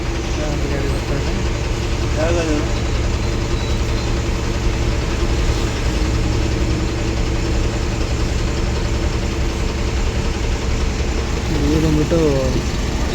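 An Eicher-built AC bus idles with a steady low engine rumble that runs throughout, while a person talks over it nearby.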